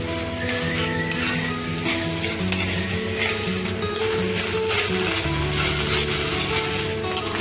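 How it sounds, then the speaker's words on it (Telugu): Steady oil sizzle from a kadai on high flame, with occasional clinks of a spatula or utensil against the pan throughout. "హై ఫ్లేమ్లో పెట్టుకొని ఫ్రై చేసుకుంటే ఉండాలి."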